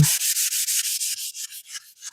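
Rapid, rhythmic scratchy strokes of a small sanding block on resin pieces, about a dozen back-and-forth rubs close up, gradually becoming lighter and quicker.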